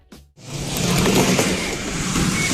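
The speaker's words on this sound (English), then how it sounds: "The rattling of the tracks," A homemade backyard ride car rattles along its tracks, with a dense, continuous rumble and clatter that swells after a brief pause at the start and stays loud and close.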